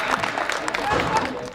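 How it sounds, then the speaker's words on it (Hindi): An audience at a Hindi comic poetry gathering claps in a loose burst of applause, with a voice speaking over the clapping. "एक बार जोरदार तालियों के साथ इस उत्सव को महोत्सव बनाएंगे"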